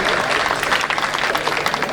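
An audience at a stage poetry event applauds a poet, a dense continuous clatter of many hands clapping at steady loudness throughout.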